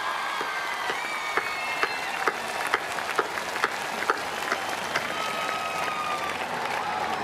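Audience at a Hindi heroic poetry recitation breaks into sustained applause, dense clapping with occasional sharper claps and some crowd murmur underneath throughout.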